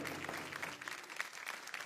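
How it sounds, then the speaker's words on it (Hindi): Applause rises from an audience at a televised folk singing competition, quiet and somewhat distant, with scattered individual claps standing out over a soft crowd wash. "जोरदार तालियां"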